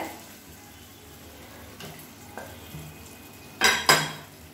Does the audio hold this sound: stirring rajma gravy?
yes